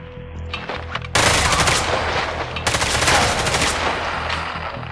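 Rapid automatic gunfire from a first-person shooter video game, loud sustained bursts of machine-gun fire filling most of the stretch, with a brief pause between volleys.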